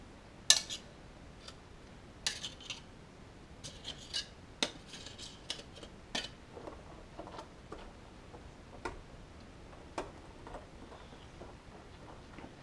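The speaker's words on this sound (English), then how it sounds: "I'm going to keep stirring this in for a while and make sure that it's fully dissolved" A spoon stirs sticky malt extract into water in a one-gallon homebrew pot, giving scattered light ticks and scrapes against the pot at an uneven rhythm, close but faint, with no talking.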